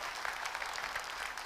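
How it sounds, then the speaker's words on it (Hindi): Dense, steady clapping from a crowd at a direct-selling business seminar fills the room, continuous and fairly loud with no break and no voices on top. "जोरदार ताली बजा दी इस बिजनेस के लिए।"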